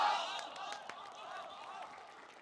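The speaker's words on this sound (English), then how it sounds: "This proclamation is met by toadying applause from the acolyte Shi Sunwu." A small gathering at a court debate applauds with scattered, light claps. The clapping is faint and distant over a murmuring background.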